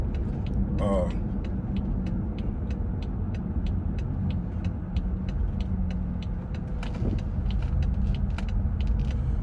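A truck drives down the road with a constant low rumble inside the cab, a regular ticking and an occasional creak, while someone talks throughout.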